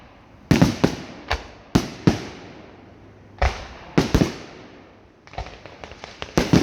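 A fireworks salute goes off outdoors as a series of loud, sharp bangs, some single and some in quick bursts, each followed by a short echoing tail with quiet gaps between.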